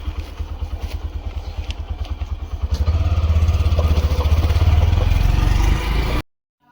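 A motorcycle engine putters in rapid rhythmic pulses up close, then revs to a louder, steadier drone before stopping abruptly.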